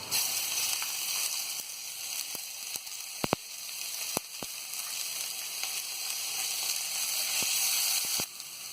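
Steady sizzling of ginger garlic paste frying in hot oil, a continuous bright hiss broken by a few sharp pops and spatters.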